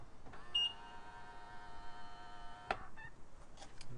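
BMW G20 330i sounding a confirmation beep as it locks via iPhone: a single sustained electronic tone lasting about two seconds, followed by a few faint short chirps, heard alone without talk.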